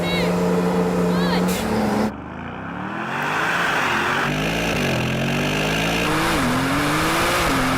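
Brabus 900 Rocket R launching hard from a standstill, engine roaring up through rising revs with a gear change and continuing hard acceleration, loud from inside the cabin with excited voices.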